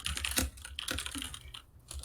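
Continuous fast typing on a computer keyboard, dense clattering key presses in steady bursts with a brief pause near the end, close and fairly loud.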